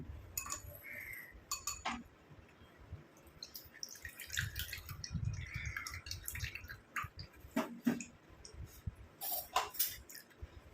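Curry leaf juice is strained into a bowl at close range, making faint irregular drips and trickles with a few soft clinks from the utensils and no talking.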